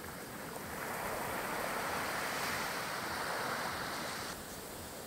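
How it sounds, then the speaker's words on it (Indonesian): Loud, continuous roar of big ocean surf breaking on a beach at Mapaddegat, Mentawai, with a steady wash of water and wind rush and no voices. "karena hempasan ombak ini besar"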